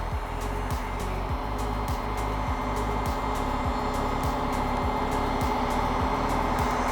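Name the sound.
heat gun warming Cybertruck vinyl wrap film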